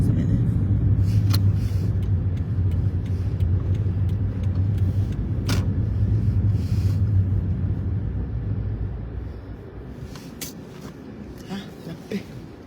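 Car engine idling and creeping along in stopped traffic near a traffic light, a steady low rumble heard from inside the vehicle that gradually eases, with a few faint clicks and knocks on top.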